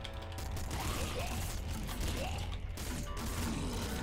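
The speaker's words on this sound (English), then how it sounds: "Heavy machine gun. Good plan." Heavy machine gun fire in the Nuclear Throne video game, a dense continuous mechanical rattle of rapid shots sustained at steady loudness, with layered game sound effects throughout.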